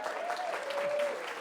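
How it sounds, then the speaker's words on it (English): Audience applause for Tyrone at a panel discussion, brief even clapping from a crowd at moderate level, with a faint tone running underneath. "Round of applause,"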